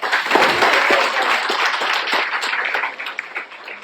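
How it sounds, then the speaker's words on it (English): An audience claps at a retirement function, a dense, steady round of applause that holds for several seconds and thins slightly toward the end, with no voices over it. "Please give a huge round of applause for her."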